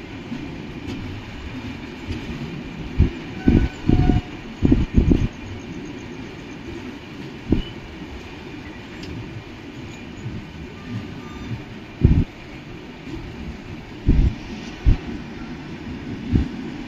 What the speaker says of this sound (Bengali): ট্র্যাক একটা দিয়ে আমাদের ট্রেন যাচ্ছে